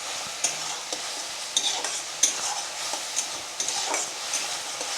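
Meat with ginger, garlic and raw tomato fries in a pan, a dense close sizzle with repeated stirring scrapes and small clicks of a utensil, steady and moderately loud with no talking.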